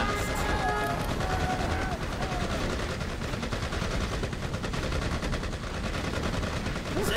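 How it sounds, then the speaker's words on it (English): Sustained gunfire from the real-time strategy game Command & Conquer: Generals Zero Hour, a dense continuous battle clatter of rapid shots with machine-gun bursts, loud throughout, with brief unit voice lines layered in. "They're shooting at us!"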